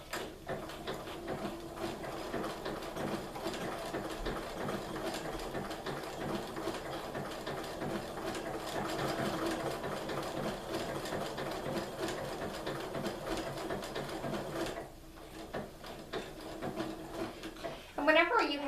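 A sewing machine stitches slowly around fusible applique pieces, running as a steady, continuous mechanical whir for most of the time before briefly stopping near the end.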